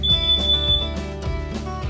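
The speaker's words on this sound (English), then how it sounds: "this smoke alarm also is a CO alarm, because you can't smell that stuff, but the alarm will really let me know what's happening" A combined smoke and carbon monoxide alarm sounds indoors with loud, piercing electronic beeps in a quick repeating pattern, close by and with no voices over it.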